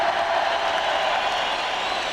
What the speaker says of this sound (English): I can't really hear you at all because the crowd is so wicked